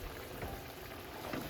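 Curry pork tenderloin simmering in liquid with other ingredients, a steady soft bubbling and crackling hiss that runs evenly throughout, close by and without talk.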